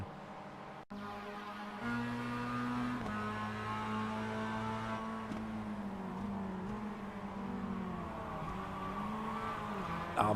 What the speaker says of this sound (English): To Moreno, just slides a little bit, just breaks traction